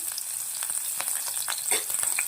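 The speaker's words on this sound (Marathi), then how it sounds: "पहिल्यांदा मिरची घातली, मग थोडा हिंग घातला." Green chili and asafoetida frying in a little oil, a close, continuous crackling sizzle with a few light stirring taps, short and even in level.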